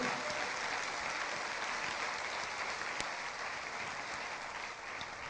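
Congregation clapping in praise during a Portuguese-language church sermon, a steady, moderately distant wash of many hands, even and sustained throughout, easing slightly toward the end.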